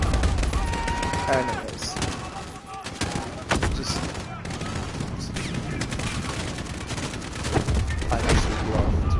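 Dense, continuous Call of Duty gunfire with rapid automatic bursts, booms and explosions throughout, loud and chaotic, with someone briefly talking over it.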